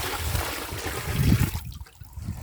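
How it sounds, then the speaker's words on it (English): Water mixed with a little jet dry is blasted from a bucket through miner's moss in a gold prospecting sluice, a close, steady splashing and gurgling rush that drops away near the end. "take a bucket with a little bit of water and a little bit of jet dry. Blast it through here like this."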